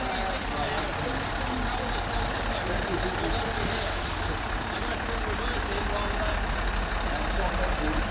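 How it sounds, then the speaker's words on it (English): A lorry rumbles close by, loud and steady throughout, with a brief hiss like an air brake partway through, while voices carry on nearby. "Oh, that sounds like a lorry type thing."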